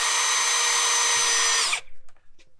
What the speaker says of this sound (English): So here we go, 13mm drill bit, FERREX Pro combi.